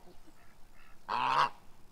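A goose gives a single loud, nasal honk near a pond, preceded by a couple of faint calls in a quiet setting.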